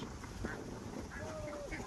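Ducks on the water of Chalan Beel give a few soft, distant quacks over a faint wash of open-air background noise, with no clear talk over them.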